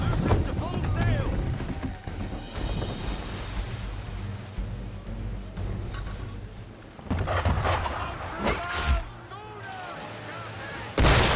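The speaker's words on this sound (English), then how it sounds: "Why is he shooting at us?" Naval cannon fire booms during a ship chase at sea in Assassin's Creed III, with several loud blasts spaced out over wind and rushing water, partly under voices.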